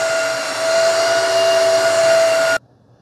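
A Shark WD201 HydroVac cordless vacuum mop runs with its suction and brush roll going, a loud, steady whine with a sustained tone that holds for about two and a half seconds, then cuts off abruptly into near silence.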